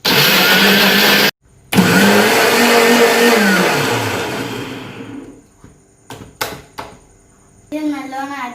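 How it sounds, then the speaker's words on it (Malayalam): A mixer grinder blends carrot, a pinch of salt and two cardamom pods in a student cooking contest, running as a loud steady whir. It cuts out briefly, then restarts and winds down, followed by a few clicks and a voice speaking. "നമുക്ക് ഇതെല്ലാം മിക്സിയിലിട്ട് അടിക്കാം"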